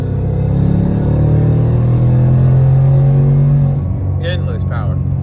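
Supercharged Ford Mustang S650 with a Whipple tune, a deep loud exhaust drone held steady for several seconds close by, then the rumble drops away as a voice cuts in near the end.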